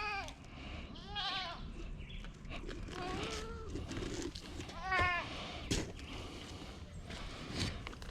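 Goats on a farm in Jamaica bleat repeatedly, several wavering calls at close to middle distance, mixed with farm background noise and some talk.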